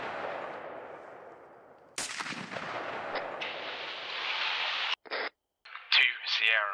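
Gunfire in the ArmA 3 military video game, bursts and shots crackling loudly over continuous battle noise, with sharp reports after the two-second mark and short gaps near the end, while radio-style voices talk throughout.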